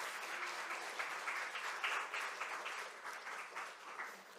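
A church congregation applauds steadily and fairly loudly, with a dense wash of clapping that holds for several seconds and swells slightly midway.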